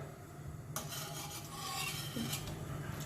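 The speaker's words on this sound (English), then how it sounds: "I have a flat spatula that I'm going to be using to flip it over" A flat spatula scrapes and flips a horse gram (kulith) paratha on a hot pan, a steady close scraping with light sizzle beginning sharply partway through and continuing to the end.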